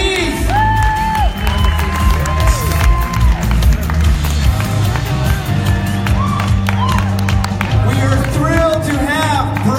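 A crowd at a Salt Lake Comic Con press event claps, cheers and whoops as celebrities come on stage, loud and sustained, with voices calling out over the applause.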